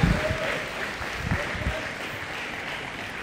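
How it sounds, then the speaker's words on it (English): Moderate applause from an audience at a Christian student debate event as a guest speaker walks up, a fairly soft, steady patter of clapping with some crowd murmur. "give a great round of applause for my friend Sean as he comes up"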